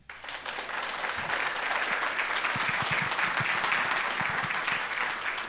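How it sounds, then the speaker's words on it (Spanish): Applause fills a church conference hall in a steady, dense wash of clapping from the congregation, holding strong and even throughout. "¿Será que puede aplaudir?"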